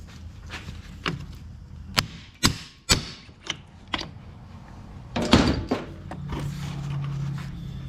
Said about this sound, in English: we take a big hammer and we're gonna knock her out